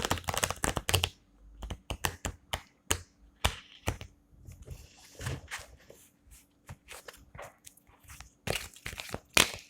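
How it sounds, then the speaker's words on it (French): Tarot cards being shuffled and drawn, giving quick irregular bursts of crisp papery flicks and snaps with short pauses between them, close and fairly quiet, no talking. "On va faire un tirage en 9 cartes."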